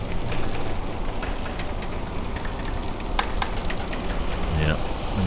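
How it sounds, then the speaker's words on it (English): Steady rain hisses over a port waterfront at Southampton, a continuous wash of patter with wind, while people talk now and then. "Oh, I can hear the rain coming."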